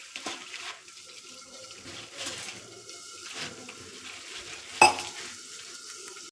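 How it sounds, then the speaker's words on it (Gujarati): Puffed rice (mamra) is washed in a large bowl of water, giving soft, quiet sloshing and stirring with a brief sharper splash near the end. "મમરા છે એને આપણે બરાબર ધોઈ લેશું."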